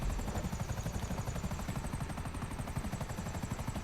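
Helicopter flying in the video game GTA Online, a steady loud rotor chop with fast rhythmic beating and a high engine whine held throughout, alone without talk.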